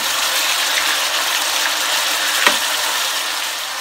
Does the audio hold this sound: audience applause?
no